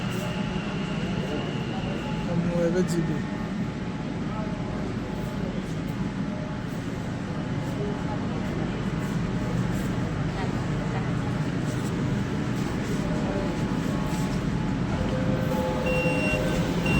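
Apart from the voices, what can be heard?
underground metro train arriving, doors opening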